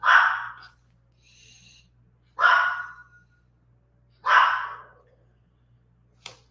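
A dog barks three times, loud and close, each bark separated by a couple of seconds of quiet, with a brief faint click at the end.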